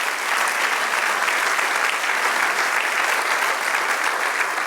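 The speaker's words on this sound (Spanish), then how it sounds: "dé un aplauso al Señor" A church congregation claps steadily and loudly for several seconds, a dense continuous wash of applause with no talking over it.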